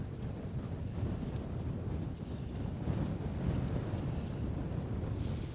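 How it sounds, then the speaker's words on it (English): Steady wind buffeting around a solo wild camp with a Lanshan 1 Pro tent, a low rumbling roar on the microphone with gusts swelling and easing throughout, no voices. "Wind's picked up."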